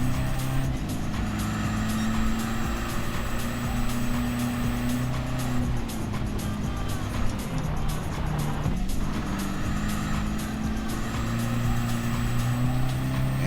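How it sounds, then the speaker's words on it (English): A turbocharged Jeep engine roars continuously in a racing video game, a sustained steady drone with slight shifts in pitch throughout. "I just can't get over the sound of that turbo"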